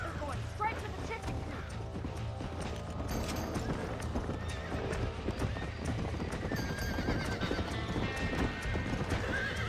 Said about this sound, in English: Where the fuck are you going, you stupid horse?